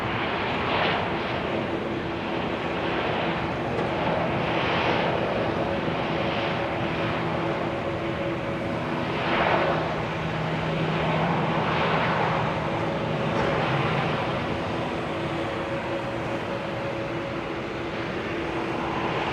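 A landing airliner at Amsterdam Schiphol produces a loud, sustained jet roar that swells as its thrust reversers deploy, with a steady engine whine running underneath, in showery weather.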